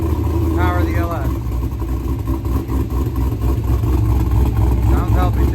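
A procharged LS V8 swapped into a 1987 Mazda FC RX7 runs with a loud, steady low rumble close by, while voices talk over it.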